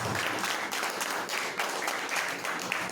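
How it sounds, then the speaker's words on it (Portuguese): Church congregation applauding during a service, a steady dense wash of clapping with faint voices mixed in throughout. "Aplaude mais forte"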